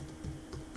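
A few soft, quiet keystrokes on a computer keyboard, spaced lightly over under a second with no talking.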